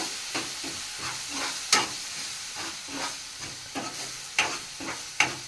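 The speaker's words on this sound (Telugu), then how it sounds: "అల్లం వెల్లుల్లి పేస్ట్ పచ్చివాసం పోయేంత వరకు వేపు" Ginger garlic paste frying in a pan, a continuous soft sizzle with periodic scraping stirs and a few sharper clinks of the spoon, close and fairly quiet.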